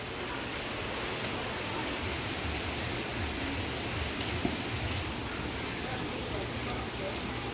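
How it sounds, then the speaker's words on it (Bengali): Rain falls in a monsoon-season downpour, a dense, even hiss of drops on surfaces that holds steady and fairly soft throughout. "থেমে থেমে বৃষ্টি হচ্ছে, আবার কখনো অঝড় ঝড়ায় বৃষ্টি হচ্ছে"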